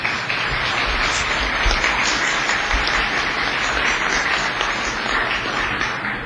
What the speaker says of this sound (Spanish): se merecen un aplauso